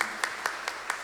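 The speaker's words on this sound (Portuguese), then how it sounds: "Uma salva de palmas aos nossos romeiros" Churchgoers at Mass clap for visiting pilgrims, faint and distant, with four evenly spaced claps standing out over a soft wash of room noise.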